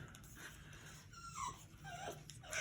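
A dog whines in the background, with soft high whimpering cries rising and falling over about two and a half seconds, fairly quiet, with no talking.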